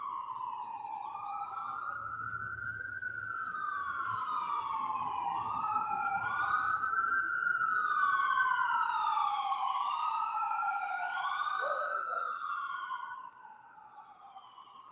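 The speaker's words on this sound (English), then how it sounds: "Ooh, you hear the police sirens?" Police car sirens wail as they pass slowly, a rising and falling tone that swells louder toward the middle and then fades away, with several sirens overlapping and no talking.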